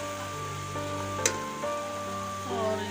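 Black chickpeas hit hot sizzling masala in a pan, making a steady close frying hiss with a brief splash, under a soft tonal backdrop.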